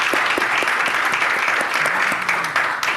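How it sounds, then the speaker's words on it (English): Sustained applause from a conference audience at a legal and digital economy workshop in Barbados, dense steady clapping filling the whole stretch at even loudness with no talk over it. "I think she deserves a round of applause."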